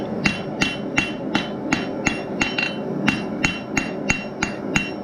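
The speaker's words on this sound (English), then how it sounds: "Remember, hammer on your corners." Hammer blows on hot steel side cutters being forged into scrolling pliers, about a dozen sharp, ringing strikes in a steady rhythm, close and clear with no talking.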